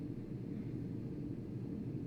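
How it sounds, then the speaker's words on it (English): An air conditioner runs in the background, giving a steady low, muffled rumble and hum that is faint and unchanging, with no voices over it. "My AC just turned on. You can probably hear it in the background."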